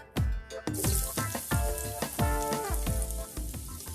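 Whole cardamom pods, cinnamon sticks and bay leaves drop into hot oil one after another, each landing with a sharp crackle that grows into a steady, close sizzle.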